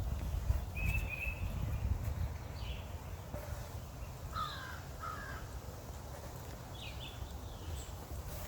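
A crow caws several times in an urban area, moderately distant calls spaced irregularly over a quiet, low background rumble.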